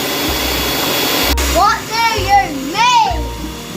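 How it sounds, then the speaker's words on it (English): An electric whisk beats cheesecake mixture in a kitchen, a constant motor whir running underneath while someone speaks excitedly over it. "Whisk until it forms peaks."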